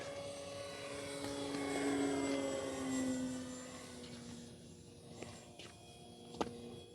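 E-Flite Extra 300 radio-controlled model airplane on its maiden flight, a whining electric motor and propeller passing at a distance, its pitch rising and falling as it manoeuvres overhead.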